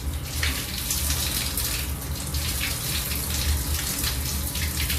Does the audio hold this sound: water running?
yes